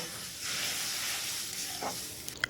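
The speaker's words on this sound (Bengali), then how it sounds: "সয়াবিন ভেজানো যে জলটা ছিল সেই জলটা দিয়ে মশলাটা খুব ভালো করে কষিয়ে নেব" A spiced masala fries in a pan with soybean soaking water, giving a soft sizzling hiss that swells for about a second and a half and then fades. It stays quiet and close, with small clicks near the end.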